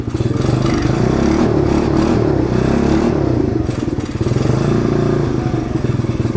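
A cheap 125cc pit bike engine runs continuously nearby, a loud, steady mechanical putter with rattly clatter and slight swells in pace, heard alone without talk.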